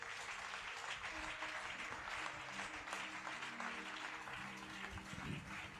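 A church congregation applauding as it acclaims the Lord during a French-language sermon, a steady, dense clapping from many hands held at a moderate, fairly distant level throughout.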